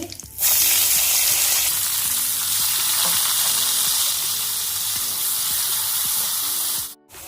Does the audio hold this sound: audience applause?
no